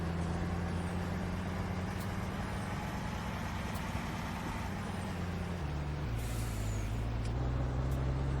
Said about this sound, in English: We can get this truck out of the way.